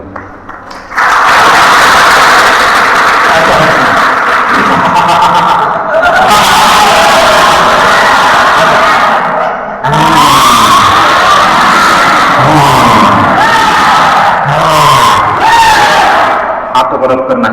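Loud, sustained clapping from a large audience in a hall, continuous for most of the stretch with a brief pause near the middle, cheers and voices mixed in.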